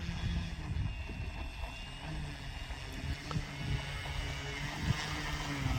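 An FMS Pitts RC model plane taxis over grass with its propeller running, giving a steady, continuous motor drone at moderate distance.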